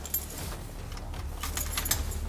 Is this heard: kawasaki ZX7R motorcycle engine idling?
no